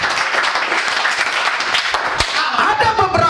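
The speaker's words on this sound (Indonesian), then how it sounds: "Berikan sorak-sorai buat Tuhan." A church congregation claps and cheers for God in a steady, dense wash of applause that fills the space from start to finish, with voices mixed into the noise.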